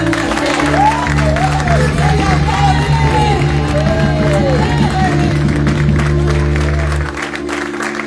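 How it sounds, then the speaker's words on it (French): A church congregation applauds during a celebration worship service, steady dense clapping sustained under loud music and singing, ending abruptly near the close. "Que tu applaudis le Seigneur d'abord."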